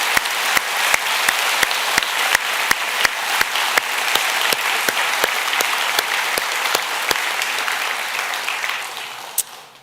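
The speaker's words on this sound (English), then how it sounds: "I want to take a moment to give them a round of applause." Steady, sustained applause from a large audience at a college convocation ceremony, with even clapping throughout and a few sharp individual claps, fading out at the end.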